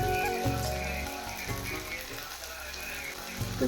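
Salt, turmeric and chili powder sizzling in a hot pan, a steady close hiss of frying with soft stirring thumps throughout.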